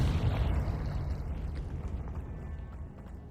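A Confringo blasting spell explodes in Hogwarts Legacy, a loud, deep, booming blast that rumbles and slowly fades over about three seconds, with no other sounds.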